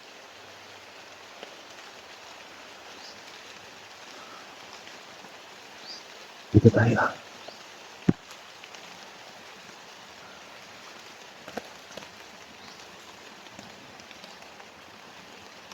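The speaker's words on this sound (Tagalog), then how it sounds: "Hindi ko gaanong marinig kasi yung paligid mga lods kasi maulan." Steady rain falling in a forest, a soft constant hiss of drops on leaves and ground all the way through, with a brief loud rustle and a sharp knock partway in and a few quiet words spoken.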